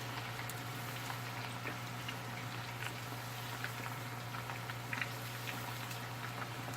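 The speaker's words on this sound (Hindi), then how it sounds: "अब मैं इसे फ्राई करती रहूँगी।" Chicken coated in masala frying in a pot over medium heat, a soft, even bubbling sizzle that holds steady throughout, quiet and continuous, with a few faint crackles and no voices.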